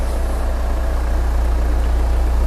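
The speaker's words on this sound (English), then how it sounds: "I can hear the engine is getting a little bit rough" A 2013 Hyundai Santa Fe diesel engine with an EGR valve fault idles close by with a low, uneven throbbing rumble, running a bit rough and steady throughout.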